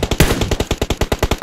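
Automatic gunfire in the mobile battle game PUBG Mobile: a loud, fast burst of evenly spaced shots, about ten in under a second and a half, with no voices over it.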